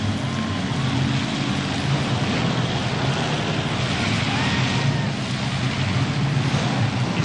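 Demolition derby cars battling in a heat at the 2001 World Wide Demolition Derby in Widewater, Alberta, with engines roaring continuously and loudly and a dense rumble of arena noise throughout.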